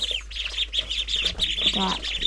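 A group of ducklings nearby keeps up constant high, thin peeping and chirping, busy and overlapping, over a low steady hum.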